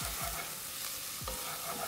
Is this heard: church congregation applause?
no